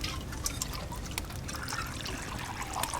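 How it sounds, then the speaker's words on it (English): Milk poured out for breakfast, a continuous liquid trickle and splash with small bright drips running steadily throughout, fairly close and with no voices. "Nemik pours Cassian his breakfast."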